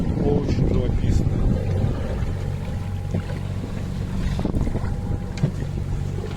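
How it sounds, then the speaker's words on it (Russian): A sailboat crossing from Tenerife toward Gran Canaria motors under engine, its steady low drone mixed with gusty wind buffeting the microphone and the wash of water along the hull, with faint voices in the background. "Мы пока идем в основном под мотором."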